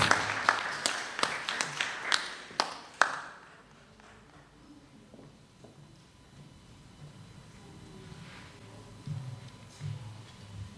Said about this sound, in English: Clap her as she comes.